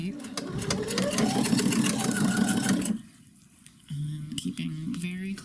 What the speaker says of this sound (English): I'm going to start sewing right on the edge of the bias tape